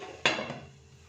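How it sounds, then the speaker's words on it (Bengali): A single sharp metallic clank as a lid is set onto a pan of broccoli frying with sugar and poppy seeds, ringing briefly then fading to a faint background hiss. "এবার একটু ঢাকা দিয়ে দেবো"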